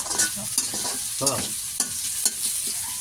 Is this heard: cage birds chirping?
no